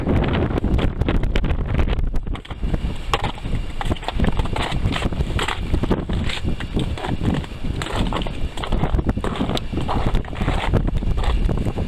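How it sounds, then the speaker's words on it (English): Strong wind on a mountain summit buffets the microphone in loud, continuous gusts of broadband roar and rumble that persist throughout, with no speech over it. "That is some strong wind."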